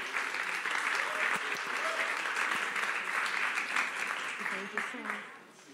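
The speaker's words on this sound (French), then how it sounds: "On les applaudit." An audience at an evening talk on football applauds the speakers, a full, sustained round of many hands clapping with some voices mixed in, easing off toward the end.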